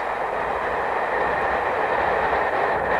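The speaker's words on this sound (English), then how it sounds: "the noise of those trains going across the railway pool" A train rumbles steadily across a railway bridge over the River Avon at moderate distance, a continuous clattering roar with no voices.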